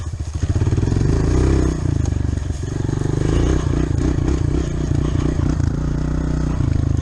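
A motorcycle engine during wheelie practice, loud and close, with a rapid pulsing throb that briefly dips and then picks up again, with no talking.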